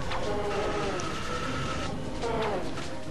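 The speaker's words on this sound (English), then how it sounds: "Incoming train." An incoming train in the Ratchet & Clank video game rushes past amid loud, dense game noise, with rising and falling horn-like tones sweeping through.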